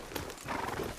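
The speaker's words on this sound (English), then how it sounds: "How's that horse treating you?" Horse hooves clip-clopping in the Red Dead Redemption II video game, a brief, faint patter of steps at a quiet level with no talking.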